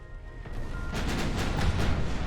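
Warship guns fire in the naval game Ultimate Admiral Dreadnoughts during a 1910 battle, with a steady run of booming artillery blasts rolling into one another over a low rumble, loud and continuous with no talk.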